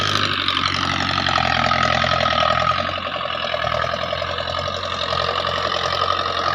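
A Russian Belarus 510 tractor engine runs steadily nearby, a loud, even diesel drone with a faint rhythmic chatter and a slight dip in level midway, no voices.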